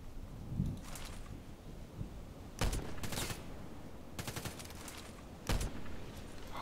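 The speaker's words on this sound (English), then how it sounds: "Guy shooting right at me." Bursts of sniper video game gunfire crack out in several separate volleys, some rapid and rattling, loud against a steady wind-like background hiss with no talking.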